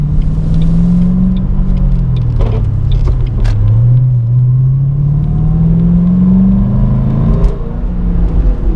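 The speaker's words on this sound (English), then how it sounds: "Missed a gear, folks. It's a manual transmission." A manual-transmission car engine revs up and down after a missed gear, a steady close rumble whose pitch swells, dips and climbs again throughout, with no talking.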